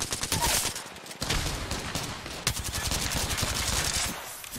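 Sustained automatic gunfire in the video game Mozambique, loud rapid bursts with a brief gap near the start, then a dense unbroken stream of shots, with no talking over it.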